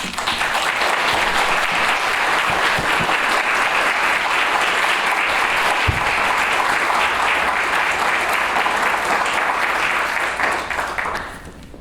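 Audience applause welcoming a speaker at a refugee resettlement office ribbon cutting in Brattleboro, steady dense clapping from a crowd lasting about eleven seconds before tapering off at the end, with no talk over it.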